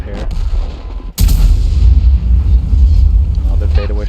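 A heavy artillery gun in the World of Tanks game fires one loud booming shot that cuts sharply in after a short silent gap and then rolls on as a long, low rumble.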